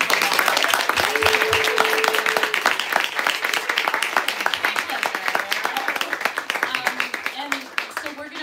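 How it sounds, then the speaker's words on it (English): An audience after an author talk claps and applauds continuously for several seconds, the dense clapping thinning slightly toward the end, with voices heard over it. "please give Sloane a huge round of applause"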